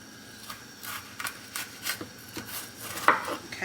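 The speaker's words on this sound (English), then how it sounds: "We need about a half a cup of chopped pepper. Just dice it up." A knife dices a bell pepper into small pieces on a cutting board, giving a series of light, irregular close taps that grow slightly quicker toward the end.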